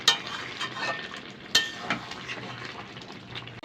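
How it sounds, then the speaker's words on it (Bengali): Meat being stirred and fried down in a pan for a Bengali-style curry, a steady close sizzle with scraping spoon strokes and a couple of sharp clinks against the pan. "এবার খুব ভালোভাবে নাড়াচাড়া করে কষিয়ে নেব।"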